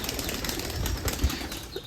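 A flock of released racer pigeons takes off with a burst of rapid, fluttering wingbeats close by, steady for about two seconds, and no voices.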